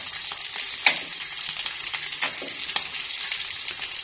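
Garlic browning in a frying pan sizzles with a steady, close crackle and scattered sharp pops, and a brief clink of a utensil stirring it near the start.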